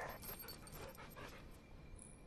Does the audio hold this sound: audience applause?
no